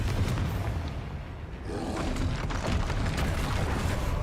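A Confringo spell explodes during combat in Hogwarts Legacy, a dense, loud, booming blast with rumbling, crackling bursts that continue throughout.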